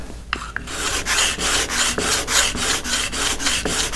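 A woodworking scraper edge is worked square against a diamond sharpening plate, giving a steady series of rhythmic rasping strokes, about a dozen back-and-forth passes close up and fairly loud, with no voices.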